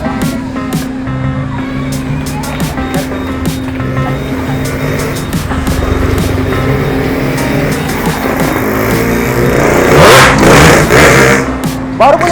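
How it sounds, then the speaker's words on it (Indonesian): A motorcycle engine revs repeatedly close by on a street, with bursts of throttle building to louder surges near the end, mixed with people talking over it. "Udah geber-geber depan gua loh."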